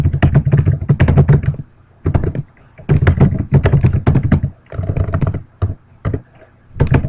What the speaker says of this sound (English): I would just type it in